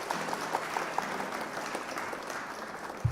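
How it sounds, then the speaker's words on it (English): Steady applause from a crowd at a Flesh and Blood card game tournament fills the whole stretch, an even wash of clapping without pause. "round of applause for our opponent, the Levia."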